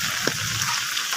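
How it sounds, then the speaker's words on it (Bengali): Rain falls steadily on a tin roof, a dense, even hiss with a few soft pattering drops, continuous and fairly close throughout. "টিনের চাল থেকে বৃষ্টি পড়লে যে শব্দটা হয়"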